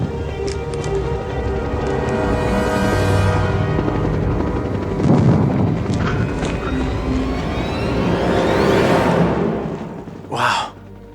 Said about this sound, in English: we got a helicopter right behind you